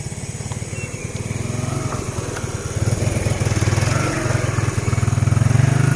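A motorcycle engine runs at night on a dark, narrow village lane, a close steady putter that swells louder toward the end as the bike moves along, with no clear talk over it.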